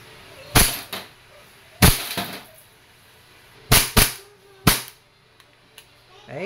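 A KWC 1911 Tactical airgun fires 4.5mm steel BBs in sharp, close, loud cracks, five shots in irregular pairs and singles separated by quiet gaps.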